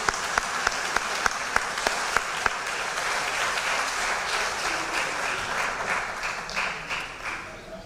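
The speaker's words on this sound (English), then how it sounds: "Let's give a round of applause to our varsity wrestling team." An audience at a school winter and spring athletic banquet breaks into sustained applause, opening with a few sharp distinct claps before swelling into dense clapping that tapers off toward the end.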